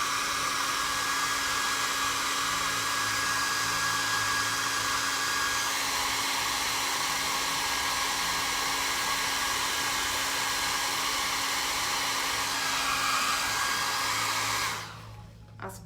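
A hair dryer blows steadily and loudly at close range to dry a handmade craft piece. Its constant whirring hum holds for about fifteen seconds and then cuts off abruptly.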